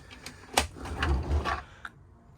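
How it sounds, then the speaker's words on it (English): A cutlery drawer in a Chausson Welcome 716 motorhome slides and shuts, giving a short run of close clicks, rattles and a soft rumbling slide, ending with a small knock. "Cutlery drawer"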